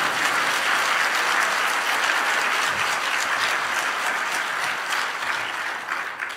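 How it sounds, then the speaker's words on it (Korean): A church revival congregation claps together in blessing, a dense, steady wave of applause filling the hall without a pause, easing slightly near the end. "우리 한번 격려 한번 축복의 박수 한번 하겠습니다."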